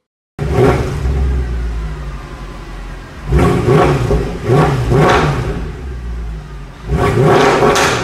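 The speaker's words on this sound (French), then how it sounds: "J'adore faire rugir mes moteurs sans me soucier de l'impact écologique" A car engine revs hard in repeated bursts, roaring up loudly three times with a lower idling rumble in between, close and with no talk.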